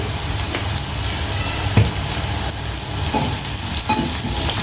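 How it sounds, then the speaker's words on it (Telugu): Onions sauté in a pan for a bottle gourd curry, a steady soft sizzle with occasional scraping stirs of a spoon, close by and without voices. "ఇట్లా ఈ మాత్రం ఉల్లిపాయలు మగ్గితే సరిపోతుందండి"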